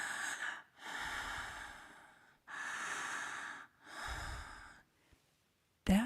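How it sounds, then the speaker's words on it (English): Three long, rasping breaths drawn and released through a slightly tightened throat in yogic practice, a soft snore-like hiss with short pauses between them, close and steady. "there's a breath where you just tighten the throat just a little bit. It sounds like you're snoring"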